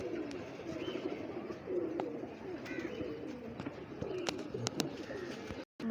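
Pigeons coo softly in a loft, low burbling calls repeating throughout, with light chirps, flapping and a few sharp clicks over a quiet background.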